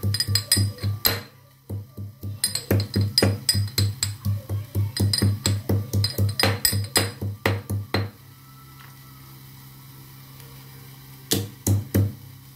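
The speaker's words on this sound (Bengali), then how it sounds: "আদাটা একটু থেতো করে দিচ্ছি।" Ginger being crushed for masala tea, a fast series of sharp, hard pounding knocks in a steady rhythm for about eight seconds, then a quiet pause and a few final strikes, close and loud.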